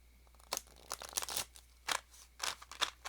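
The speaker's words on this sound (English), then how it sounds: "I'm going to shuffle again." Tarot cards being shuffled by hand give a run of close, crisp riffling and crunching bursts in irregular clusters of papery snaps, with no voice over them.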